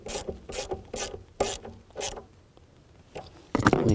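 A ratchet snugs down a bolt on a 2009-17 Chevy Traverse engine with about six quick bursts of clicking strokes, followed by a pause and a louder burst of metallic clatter, close up and with no talking.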